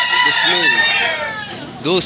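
A medium-sized rooster offered for sale crows loudly and close by, a long wavering call followed by the start of another, with chatter from people nearby.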